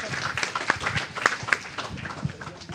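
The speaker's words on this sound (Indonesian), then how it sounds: "Luar biasa, kita kasih tepuk tangan." An audience at a leadership and teamwork talk breaks into scattered clapping, a thin, uneven patter of separate hand claps rather than a full ovation.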